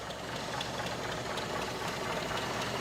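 A 1956 Willys truck engine idles with a steady, close rumble and a light metallic rattle running through it.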